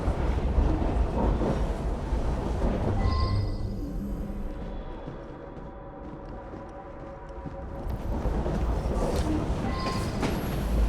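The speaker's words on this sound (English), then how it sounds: "Oh, well, it's a noisy train." Steady, noisy rumble inside a moving train in Assassin's Creed Syndicate, a continuous broadband roar that dips briefly midway and then swells again.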